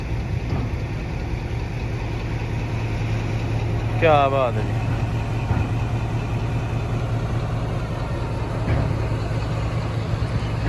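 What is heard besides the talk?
railway locomotive engine idling while shunting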